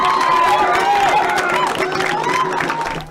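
A large crowd at the Assembly of Manitoba Chiefs Grand Chief election cheers loudly and steadily, with high voices rising above the roar for the whole stretch.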